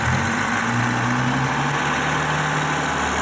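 Close, steady hum of a twin-turbo diesel BMW engine with the throttle held open, low drones sliding gently upward as revs rise, broadband turbo whoosh over the top.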